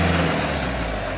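A vehicle engine labours hard, holding a loud steady drone with low rumble while the wheels slip, somewhere near the Ouzoud area of Morocco; close and continuous for the whole moment.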